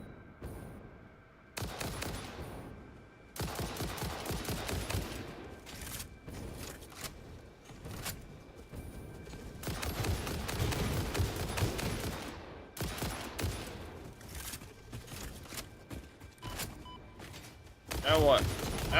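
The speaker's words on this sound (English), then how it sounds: "There's somebody over here shooting shit at me." Enemy gunfire in a video game comes in repeated bursts of rapid shots, some long and fusillade-like, separated by short gaps and moderately loud throughout.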